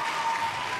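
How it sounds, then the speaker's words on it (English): Sustained applause from an audience at a talk on environmental justice, a continuous wash of clapping at moderate loudness throughout. "Thanks for the applause, Sean."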